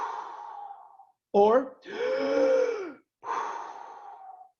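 Deep Wim Hof method breathwork: a sharp audible inhale followed by a long, drawn-out exhale, then another long breath out, done up close as a demonstration, with a brief word spoken at the start.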